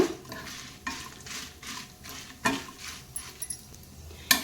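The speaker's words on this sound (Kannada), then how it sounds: "ಬ್ಯಾಡಗಿ ಮೆಣಸನ್ನು ಹಾಕಿದ್ದೀನಿ ಇದನ್ನೀಗ ಸ್ಲೋ ಉರಿಯಲ್ಲಿ ನಾನು ಹುರ್ಕೋತೇನೆ" About eight or nine Byadgi dried red chillies roast in a pan over a slow flame. A soft, steady sizzle carries on throughout, with occasional stirring knocks and scrapes against the metal. It is close and fairly quiet, with no voices.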